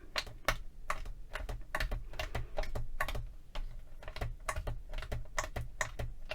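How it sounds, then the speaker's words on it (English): A blade chops soft Cernit polymer clay for faux lapis lazuli into fine speckles, giving quick, close, crisp taps in a steady, busy rhythm with no talking. "I am just going to chop this up quite finely to get all those little tiny speckles"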